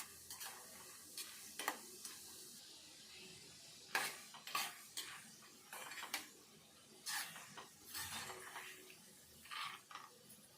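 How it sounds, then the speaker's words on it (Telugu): Roasted gram (putnalu) frying in oil in a pan, with a soft sizzle under repeated metallic scrapes and clinks of a spoon stirring against the pan, close and fairly quiet, no talking. "ఇప్పుడు ఇదే నూనెలో ఈ పుట్నాలు కూడా వేపుకోవాలి"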